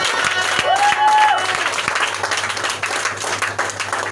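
A church congregation cheers and applauds loudly for Jesus during a French-language morning service, with steady clapping, a rising whistle or shout, and a sustained low hum beneath the crowd.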